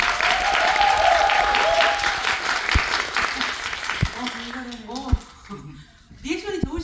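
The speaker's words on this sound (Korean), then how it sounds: "한 번만 더 박수" Dense audience applause at a musical's closing-performance curtain-call greeting for Mary Shelley, loud at first and then fading as voices take over and speak in the second half.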